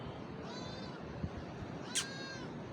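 House cat meowing twice, a short drawn-out meow followed by a sharper one, fairly faint over a quiet indoor background.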